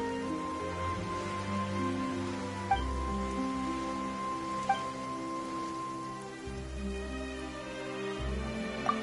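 Steady rain falls in a soft, even patter that holds across the whole stretch, with sustained tonal music underneath and a few faint clicks, and no voices.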